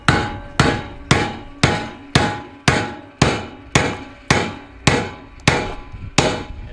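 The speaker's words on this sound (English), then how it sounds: "this is going to be installed using a rubber mallet" A rubber mallet hammers plastic connectors into the frame of a SlipSki boat garage, eleven evenly spaced, close, solid thuds each ringing briefly before the next strike, with no talking.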